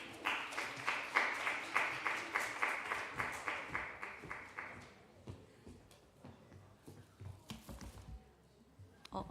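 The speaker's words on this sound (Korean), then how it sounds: "런매 팀장 나올 때 박수 부탁드립니다" Applause rises for a team leader called up at a young adults' Sunday church service awards segment, a burst of steady clapping for about five seconds that then thins out into scattered claps and room noise.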